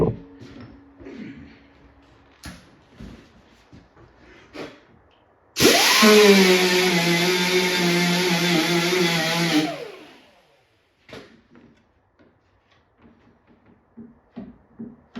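A short burst of loud, harsh power-tool whine with a steady tonal drone lasts about four seconds as 36-grit sandpaper works body filler on a 2011 Chevy Malibu, framed by quiet scraping and handling noises.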